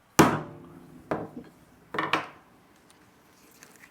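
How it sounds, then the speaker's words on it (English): A hammer used as a punch strikes an end grain cedar block, giving three sharp, close wooden knocks about a second apart, the last a quick double hit, each ringing briefly into a quiet workshop. "we'll use this hammer as a punch"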